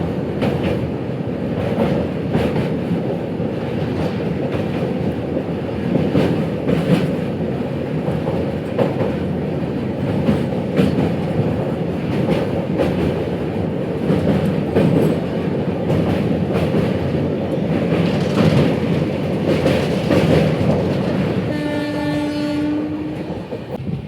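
The Kandari Express from Howrah to Digha rumbles steadily as it pulls away from a station, with a dense roar of wheels and carriages and a short horn near the end. No one speaks.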